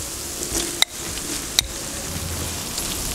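Carrots and hot pepper fry in a pan, a soft steady sizzle with two sharp clicks of a utensil against the pan partway through.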